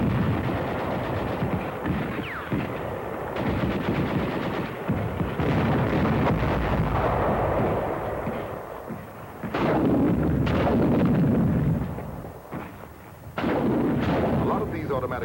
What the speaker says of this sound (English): Infantry and tanks attack together. An offensive unit of men and steel.